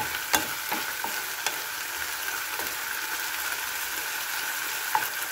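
Pork liver cooks in a covered pan with a steady low sizzle and a few sharp pops and clicks scattered through.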